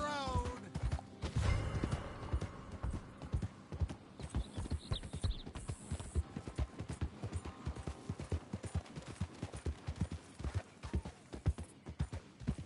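Horse hooves clip-clop steadily in Red Dead Redemption 2, close and rhythmic, with a whinny near the start and soft background game ambience; voices are heard briefly.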